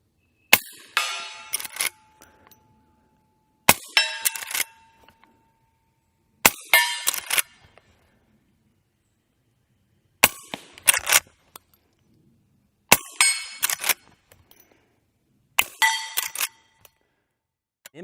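Six shots from a suppressed Henry lever-action rifle firing .38 Special rounds, each a sharp muffled crack with a metallic clang of the lever cycling, spaced about three seconds apart with silence between.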